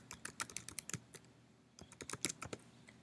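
Quiet typing on a computer keyboard: a quick run of crisp key clicks, a short pause, then a second burst of tapping, close and alone.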